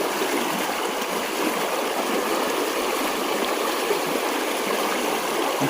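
A strong river, swollen in the monsoon, rushes past at a fishing spot, making a loud, dense and unbroken roar of flowing water throughout, with no voices.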